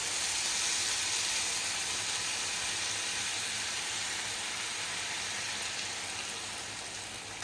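Canned tomatoes poured into a hot pan of minced meat for bolognese sauce raise a steady, loud, broad sizzling hiss that holds evenly throughout and fades slightly toward the end.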